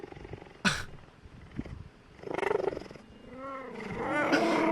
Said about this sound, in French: Il est là, il ronronne